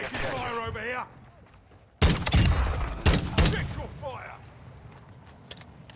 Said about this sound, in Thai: เดี๋ยวผมใช้ปืนนี้ต่อเม M16